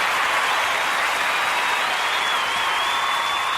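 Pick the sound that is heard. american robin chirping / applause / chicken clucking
applause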